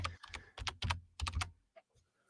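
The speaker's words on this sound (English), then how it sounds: "Try typing Pingus." Fingers type on a computer keyboard in short quick bursts of key clicks with brief pauses, close and fairly quiet, tapering off to a few isolated taps at the end.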